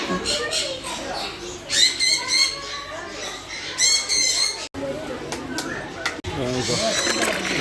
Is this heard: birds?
yes